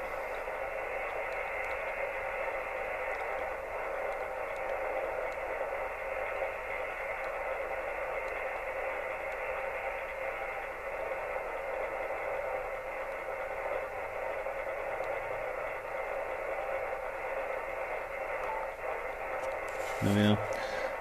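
Steady radio band noise hisses from a receiver tuned near the resonance of a magnetic loop antenna, a constant static wash that holds level for the whole stretch with a brief click near the end.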